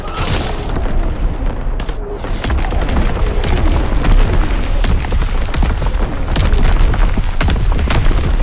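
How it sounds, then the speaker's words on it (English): Division artillery strike in a Call of Duty WWII hardcore domination match, heavy booming blasts and rumbling impacts rolling in one after another, loud and sustained with scattered crackling debris. "Firing division artillery"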